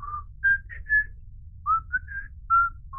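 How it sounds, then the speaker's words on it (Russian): A character in the People Playground ragdoll game whistles a tune, a series of clear, short melodic whistled notes rising and falling with brief pauses between phrases, heard alone over a low background rumble. "И он стоит, как ни в чем не бывало, э, насвистывает свою любимую мелодию."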